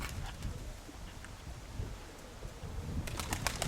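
Pigeons in a loft, including a grey hen, coo softly and faintly at a distance, with a few short bursts of wing flapping near the end and no voices.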